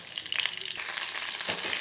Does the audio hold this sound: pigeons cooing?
no